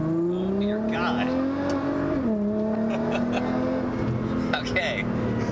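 An Alpha 7 Nissan GT-R in manual mode accelerates hard, its engine note climbing steadily with one brief dip at a gear change, loud and close from inside the cabin while people talk over it.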